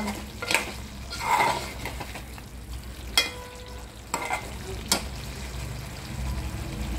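Liver masala frying in a pan, a bed of sizzle broken by several sharp scrapes and clanks of a spoon stirring against the pan, close up with no talking.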